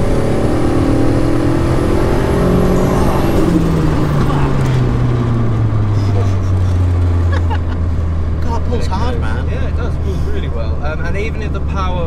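A turbocharged sleeper car accelerates hard in gear, its loud engine drone climbing steadily in pitch from inside the cabin, with voices briefly over it.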